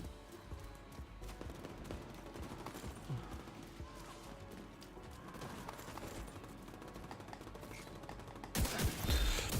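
Rapid gunfire from The Division 2 video game, a steady stream of distant, fairly faint shots and bursts running throughout, with a louder burst near the end and someone talking over it.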